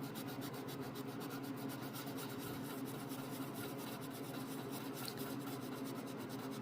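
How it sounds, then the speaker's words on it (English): A brush is dry-brushed with paint across a painted songbird figure in quick repeated strokes, giving a close, soft, steady scratchy rubbing with no talking. "We are dry brushing, but you still need to have paint."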